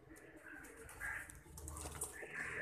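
Pet pigeons kept in Pakistan coo softly in short, rising throaty calls repeated a few times, faint and close in a quiet space.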